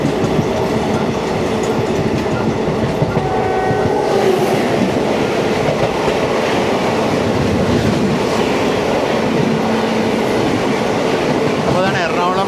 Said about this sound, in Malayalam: അപ്പോൾ അതാണ് എറണാകുളം ധർത്തി ആബ എക്സ്പ്രസ്.